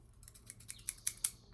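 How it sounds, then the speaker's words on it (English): A few quick, crisp snips of small scissors, faint and close, spaced irregularly over a quiet background. "I have these scissors because they're fidgets"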